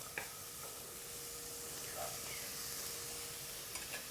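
Onions fry quietly in oil for a vegetarian mapo tofu, a soft, steady sizzle with a few faint spatula scrapes, heard from close by at low volume.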